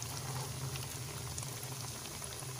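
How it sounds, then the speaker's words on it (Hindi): Chicken pieces for a zinger burger deep-frying in hot oil, a continuous faint crackling sizzle with dense bubbling pops, steady throughout and heard close on its own without voices. "पीस हमारे फ्राई हो रहे हैं।"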